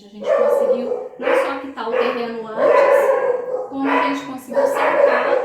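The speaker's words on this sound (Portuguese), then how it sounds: "desculpa o barulho dos cachorros aí, latindo" Dogs bark at a rural plot in Brazil while someone speaks Portuguese in the foreground, the barks partly masked beneath her talk.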